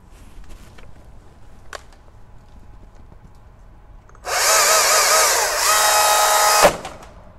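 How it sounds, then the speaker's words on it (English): A loud, high-pitched motor whine from a STIHL MSA 220 battery chainsaw kicks in abruptly and runs for a couple of seconds as it bites into protective chainsaw pants, then stops suddenly. "if we saw into his pants using the MSA 220 chainsaw"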